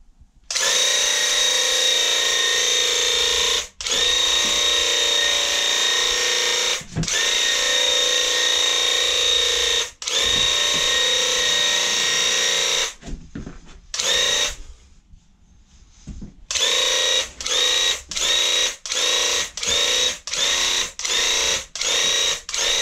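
A Graco Ultra handheld airless paint sprayer runs in loud, steady bursts, several seconds long at first, then a quick series of short regular triggers, with no talk.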